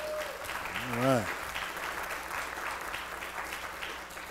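Audience applause for candidates at Center Baptist Church, a broad wash of clapping that lasts throughout, with a rising vocal whoop or call cutting through near the start.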